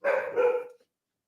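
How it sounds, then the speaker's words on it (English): A dog gives one short, loud bark close by, lasting under a second, then silence. "Not my dog."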